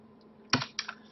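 Keys tapped on a computer keyboard: two quick close clusters of clicks, each a couple of keystrokes, standing alone against a quiet background hum.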